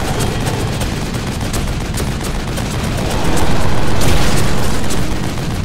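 Gunfire in The Evil Within video game: dense, rapid, loud bursts of shots over a constant roaring din, swelling heavier toward the middle.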